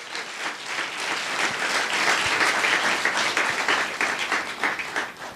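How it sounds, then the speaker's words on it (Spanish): A church congregation applauds in a sustained, dense wash of clapping that swells slightly and holds steady throughout, with no speech over it. "Si le va a aplaudir, apláudale con ganas al Señor"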